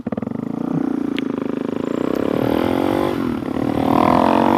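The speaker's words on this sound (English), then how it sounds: "If I just want to try to accelerate, it just wheelies in first a little bit." Suzuki DRZ 470 Stroker motorcycle pulling hard in first gear, a loud, close engine roar climbing steadily in pitch with a dip and then a fresh surge near the end.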